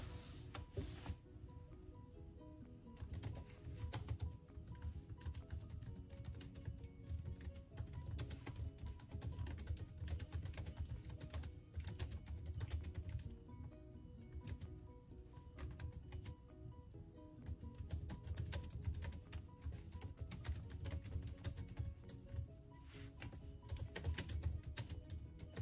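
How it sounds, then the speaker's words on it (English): Steady rapid keystrokes on a computer keyboard, clicking and tapping continuously at a moderate level over a soft background bed. "I'm just really trying to get this typing stuff."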